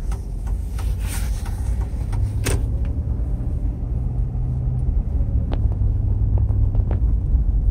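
A 2003 Chevrolet Tahoe rolls down a street at night, its low steady road rumble and engine drone running continuously, with a few faint clicks and rattles inside the cabin.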